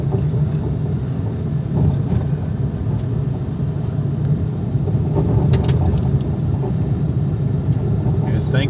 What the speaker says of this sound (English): Looks like the Bowls Club courtesy bus is here as well